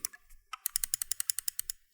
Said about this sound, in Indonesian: Nih suara klik kayak gini. Klik kiri, klik kanan.